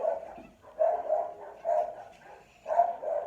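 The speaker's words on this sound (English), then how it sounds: "all of my dogs are going crazy" Several dogs bark and yip in short repeated bursts, moderately loud and fairly close, with a faint whimper between barks and no talking.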